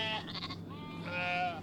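A sheep sound effect from a children's read-aloud picture book bleats clearly, two wavering calls in quick succession, with no voice over it.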